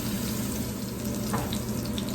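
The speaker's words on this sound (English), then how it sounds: "You see how they're bubbling around the edges?" Cornmeal batter patties fry in a hot skillet with a steady, dense sizzle and crackle of oil, loud and close throughout, with no talk over the bubbling.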